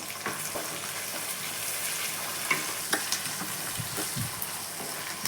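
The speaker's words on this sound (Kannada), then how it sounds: "ಇದು ಚೆನ್ನಾಗಿ ಹಸಿ ಸ್ಮೆಲ್ಲು ಸ್ವಲ್ಪ ಹೋಗೋವರೆಗೂ ಫ್ರೈ ಮಾಡ್ಕೊಳ್ಳಿ" Capsicum and green chillies fry in a pan with a constant close hiss of sizzling oil, broken by light clicks and taps of stirring at an uneven pace.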